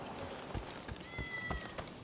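A cat in Rise of the Ronin gives a few short meows with soft taps between them over quiet background ambience.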